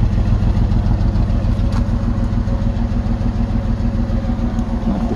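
Jeep Liberty engine running steadily with the exhaust sputtering and spitting, a loud, close, continuous rumble with a fast pulsing throb.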